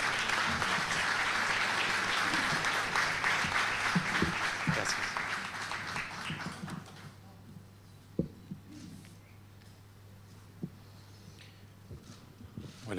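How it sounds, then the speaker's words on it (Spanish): An audience at a commemorative ceremony for the Armenian Genocide anniversary applauds to welcome a speaker. The clapping is dense at first, fades out midway, and a few scattered claps and small noises follow in a quiet room. "Lo recibimos con un aplauso, por favor."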